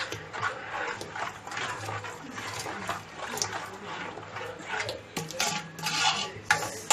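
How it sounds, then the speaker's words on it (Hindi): Dough is stirred by hand in a metal pot for a Konkani sandan, producing scraping, clinking and soft slapping sounds in an irregular rhythm, close and fairly quiet, with no talking. "देखो पूरा मिक्स करने का और गरम जगह पे रखना"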